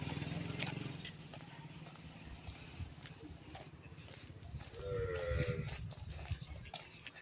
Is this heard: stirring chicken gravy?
no